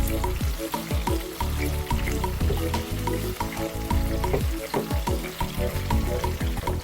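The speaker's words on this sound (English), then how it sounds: "we'll turn every meat, and I'll cook on the other side" Hamburger patty meat frying loudly in a pan, a dense, close crackling sizzle that runs steadily throughout, with a few clunks and scrapes as the meat is moved.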